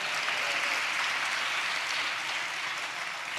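Congregation clapping during a church sermon, a steady wash of many hands clapping at moderate distance, fading slightly toward the end with no talking.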